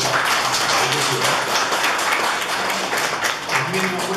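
An audience at an alumni association general meeting applauds, giving a loud, dense patter of clapping across four seconds with a faint low murmur beneath it.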